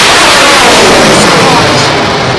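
An IAI MRSAM air and missile defense interceptor launches during a test with a continuous, very loud roaring blast that fills the whole moment without a break.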